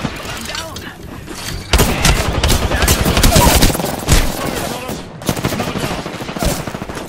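Dense bursts of automatic gunfire crackle in an Apex Legends firefight, rapid volleys sounding close and loud, pausing briefly and then resuming in clusters.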